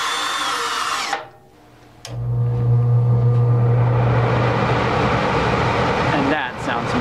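A power drill drives screws into a gas furnace board, whirring steadily for several seconds, loud and close, after a brief pause and another short burst.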